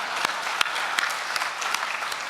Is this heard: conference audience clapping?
yes